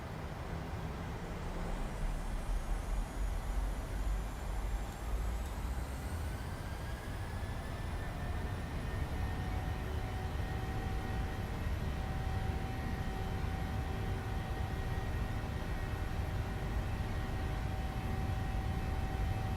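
Steady roar of PMDG 737-800 jet engines spooling up on a takeoff roll in a flight simulator, a continuous loud rumble with a rising whine that holds throughout.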